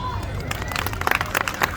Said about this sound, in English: On 3, big round of applause